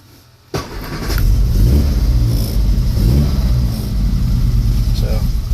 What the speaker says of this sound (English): Give it some gas. Goes up. Idles back down.